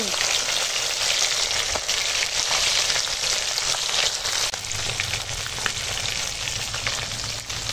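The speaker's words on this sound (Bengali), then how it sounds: "দেখো এখন তেল গরম হয়ে গেছে, আর মাছ ভেজে নেব" Bhola fish frying in hot oil, a steady, dense sizzle that stays loud and continuous throughout with no talking.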